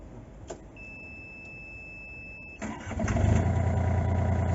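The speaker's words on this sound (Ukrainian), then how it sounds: "Тож, спробуємо машину завести." A Yanmar SV26 mini excavator's engine cranks and fires, a faint whine first, then a starter burst and the diesel catching into a louder, steady idle.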